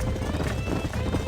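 Horse hooves clop in a quick galloping rhythm in the Western video game Red Dead Redemption, close and fairly loud, mixed with game sound and some voice over the top.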